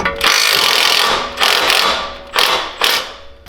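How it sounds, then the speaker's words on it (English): An impact wrench hammers loudly up close on a sway bar bolt of a 2011–2016 Ford Explorer, firing in four bursts: one long rattling run and then three shorter ones. "we get it broke loose with the impact"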